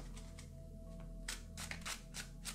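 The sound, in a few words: tarot cards being handled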